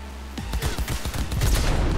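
Gunshots from a video game with a dragon burning a city, a rapid volley of loud, sharp reports in quick irregular succession, building in density and intensity over two seconds with no talking.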